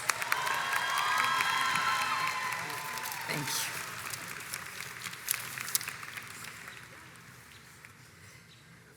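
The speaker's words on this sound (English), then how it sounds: "And now a round of applause for our Master of Studies in Law graduates." Applause and cheering from a crowd at a law school diploma ceremony honor Master of Studies in Law graduates, loudest early then thinning, with scattered shouts and a brief thank-you spoken over it.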